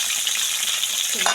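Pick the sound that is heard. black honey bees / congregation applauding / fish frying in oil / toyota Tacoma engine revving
fish frying in oil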